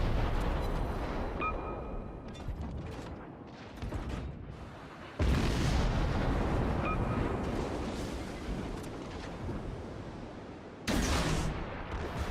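Torpedo hits on a ship in World of Warships, heavy rumbling booms and roaring explosions swelling and fading, with fresh blasts striking around five and eleven seconds amid the game's dense battle noise.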